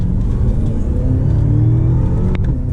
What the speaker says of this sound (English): you can hear those turbos spool up